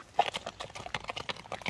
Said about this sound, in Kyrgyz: Атты бастырыңчы ака.